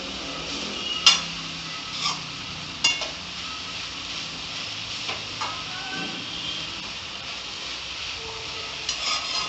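Sweet potato breakfast food is stirred in a pan over a soft steady sizzle, with a handful of sharp spoon scrapes and clinks at irregular intervals, close and moderately quiet, no talking.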